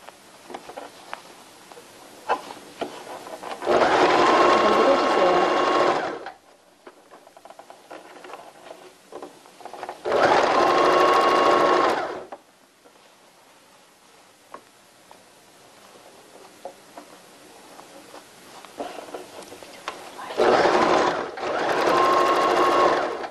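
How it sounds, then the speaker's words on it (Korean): A sewing machine stitching lace onto underwear runs in three close, loud bursts of rapid stitching lasting a few seconds each, with quiet fabric handling between them. "이렇게 2차 박음질 하였습니다."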